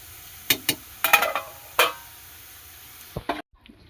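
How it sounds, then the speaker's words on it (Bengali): Shredded cabbage frying in oil in a pan for vegetable biryani gives scattered sharp sizzling bursts and stirring scrapes over a quiet hiss, ending abruptly. "বাঁধাকপিটা ভাজা হয়ে গেছে, আমি এরকম ভেজে তুলে নিয়েছি"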